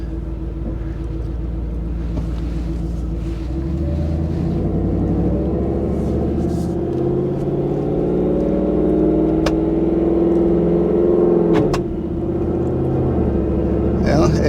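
A 2024 Ford F150 4x4 with the 5.0 V8, in manual mode, gives a deep close engine rumble that rises steadily as it revs, then dips briefly at a shift before climbing again.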